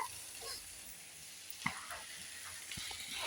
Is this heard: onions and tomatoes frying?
yes